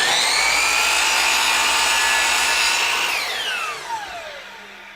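A power saw cuts wood for the sides of a tray, whining loudly and steadily at close range before the blade spins down with a falling pitch.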